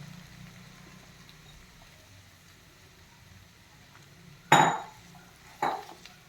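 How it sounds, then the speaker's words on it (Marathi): Crumbled jowar bhakri with sprouts being stirred in a pan, a soft background hiss broken by two sharp clinks of a spoon scraping the pan near the end. "व्यवस्थित परतून घ्यायची आहे।"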